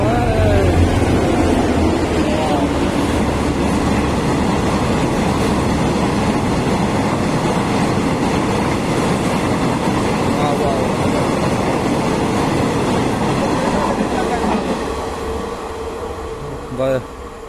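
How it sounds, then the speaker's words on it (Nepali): A train rolls into a station with a loud, continuous rumbling and rail clatter that gradually fades toward the end, with people talking over it. "ट्रेन आइसक्यो"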